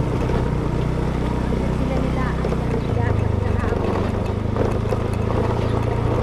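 Mother's motorcycle in the province, weighed down carrying riders, gives a steady close engine drone with a shift in pitch partway through, while people talk over it.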